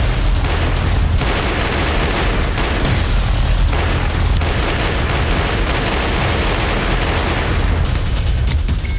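Gunfire and bomb explosions ring out in clashes between Afghan Taliban fighters and the Pakistani army at the Chaman border crossing, a loud, unbroken barrage of overlapping shots and booms.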